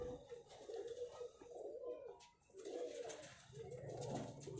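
Long-feathered fancy pigeons in a Lahore loft coo in soft, repeated low rolling phrases, quiet and close, with no voices.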